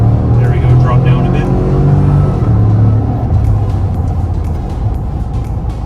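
A Cadillac Escalade engine with its factory air intake revs up loud and close, holding a deep rumbling drone before easing back to a lower, steady idle.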